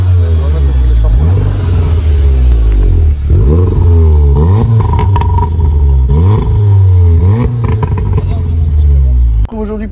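Volkswagen Golf 7 R Phase 2 engine revving hard, with repeated rising and falling throttle sweeps close up and loud throughout, overlaid by voices talking.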